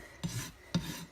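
Two short rasping strokes of a farrier's rasp filing a horse hoof during a trim, close and fairly quiet, each stroke a brief scraping burst with no talking.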